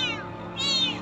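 A cat on a boat gives two drawn-out meows close by, the second higher and brighter, over a low steady background hum.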